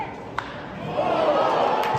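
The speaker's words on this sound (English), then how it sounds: "Yeah, you hear the crowd explode." Baseball crowd at a San Francisco Giants spring training game against the Rangers, a broad roar of cheering that swells and holds loud through the second half, heard at a distance under a voice talking.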